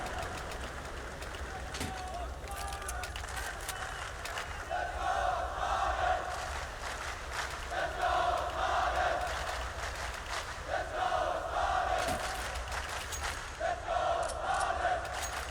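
A crowd in a Counter-Strike esports arena at the PGL Major in Kraków cheers and chants for Astralis, with rhythmic swells of voices rising and falling repeatedly while a commentator talks over the noise.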